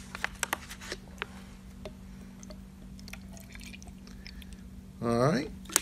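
Water pours into a container holding a soil sample for a shakeout test; scattered drips and small clinks lead into a short, bright pouring gush near the end, quiet and close.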